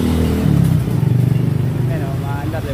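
A Honda Click scooter idles and then pulls away, its small engine putting along close by with a steady mid-pitched drone and a brief rev, while people talk over it.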